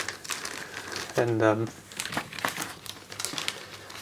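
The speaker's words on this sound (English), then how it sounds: "So you flap the plastic bag open" A plastic toy packaging bag is flapped open with loud, close crinkling in a run of bursts, while someone talks over it.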